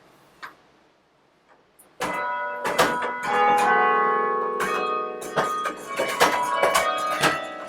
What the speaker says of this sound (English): We can play the lower half of the bells with our feet.